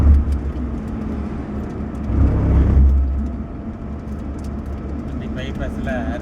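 Vehicle driving along a bypass road on a trip to Tirupati, a steady close engine and road rumble that swells briefly midway, with a voice heard over it.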